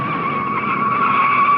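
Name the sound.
1960 race car spinning out with tire skid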